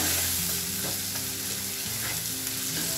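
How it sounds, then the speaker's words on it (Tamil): Spices tempering in butter in a pan for a rajma gravy, giving a steady close sizzle and fry with light stirring scrapes throughout, no talking. "ஒன்லி பட்டரில் தான் நம்ம வந்து இது தாளித்து வேக வைக்கணும்."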